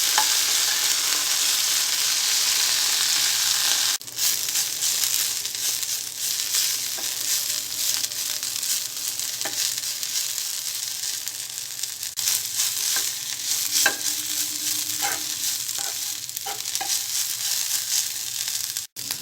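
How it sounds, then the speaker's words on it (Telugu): Mint leaves frying in hot oil in a pan, a steady close sizzle running throughout with occasional stirring scrapes and clicks, no talking. "పుదీనా పచ్చివాసన పోయే వరకు ఫ్రై చేసుకోవాలి."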